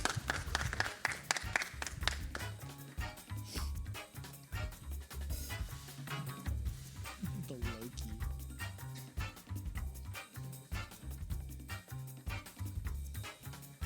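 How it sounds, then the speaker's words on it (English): A high school esports championship crowd applauds the runner-up team, steady faint clapping over about fourteen seconds with occasional voices mixed in. "Can I get some applause"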